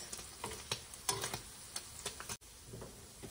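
Paneer frying in a pan, sizzling softly with a string of sharp pops and spits close by, then a sudden quiet drop to a low sizzle.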